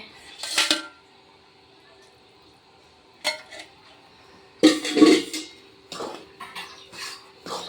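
A spoon scraping and clinking in a pan while a laddu mixture with ghee is stirred, a few sharp metallic knocks and scrapes separated by quiet gaps, close and moderately loud.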